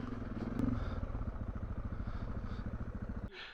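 A motorcycle climbs a steep slope of deep red cinders, its engine pulsing in a rapid, steady chug at moderate volume before cutting off abruptly near the end.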